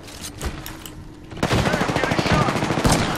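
Rapid automatic gunfire from the video game Apex Legends erupts after a quieter opening with a few scattered shots, becoming dense, sustained bursts for the last half, loud and close.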